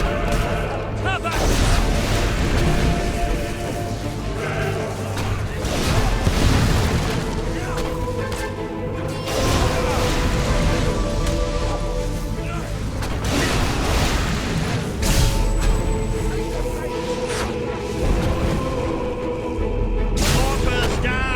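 Mortar explosions thunder through a battle in the video game Fable 3, with dense, continuous booms and blasts over a loud layered soundtrack, while voices shout in the background.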